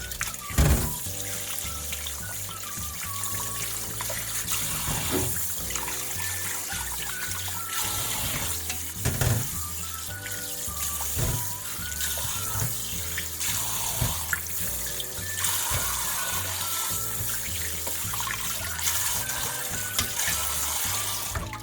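Yellow croaker fish rinsed under a running kitchen tap, with a steady stream of water splashing continuously throughout, close by, over background music.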